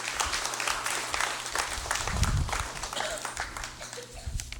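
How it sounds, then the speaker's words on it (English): A legislative chamber applauds during a congressional session, dense, steady clapping that carries on throughout, with a few louder thumps mixed in. "let's give them all a round of applause"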